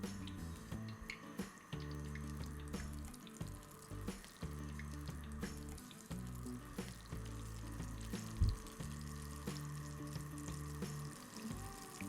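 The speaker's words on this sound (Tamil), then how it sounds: "இதில் இந்த போண்டாவை இது மாதிரி முக்கி இது மாதிரி ஆயிலில் போடுங்க" Vada pav bondas dipped in batter and dropped into hot oil give a steady close sizzle and bubbling, with a few brief knocks, and a voice speaks briefly over it.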